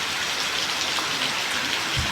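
Steady, dense rain drums on tin roof sheets overhead, a continuous close patter with no pauses and no voices.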